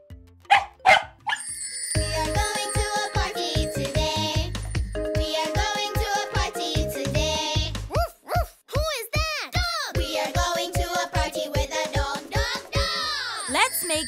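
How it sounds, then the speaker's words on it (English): Cartoon dog in a preschool educational song, with a few short barks near the start before bright jingly music with children's voices and singing takes over. "It's a dog."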